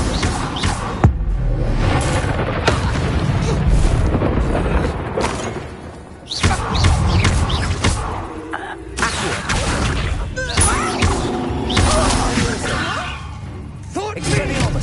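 Spells are cast in combat in the video game Hogwarts Legacy, including the Incendio fire spell, with repeated booming blasts, whooshes and impact thuds over a loud, busy game soundtrack.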